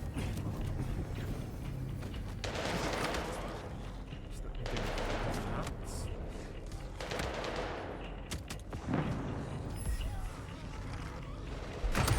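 Sniper rifle fire in Vampire: The Masquerade - Bloodlines 2, several sharp shots and bursts spread across a noisy game fight, with a broad wash of action sound between them.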